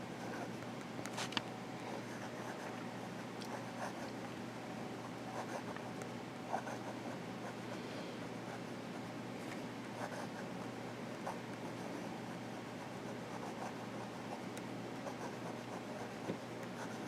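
A Conklin limited-edition Israel 75 fountain pen writing reverse on paper, a soft continuous scratching of nib on the sheet with occasional faint taps, close and steady throughout.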